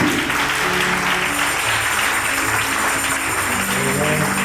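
A church congregation at a Sunday service applauding in acclamation, continuous dense clapping mixed with music and voices throughout.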